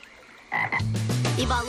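A cartoon toad lets out a loud, close croak lasting about a second, rising and wobbling after a brief opening chirp, with no talk over it.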